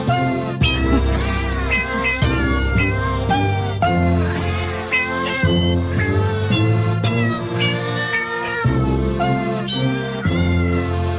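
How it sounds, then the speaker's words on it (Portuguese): Cat meows arranged into a sung Happy Birthday, the pitched mews following the melody over a musical backing, loud and close. "Coloca de novo pra gente esses gatinhos cantando parabéns, Pedro."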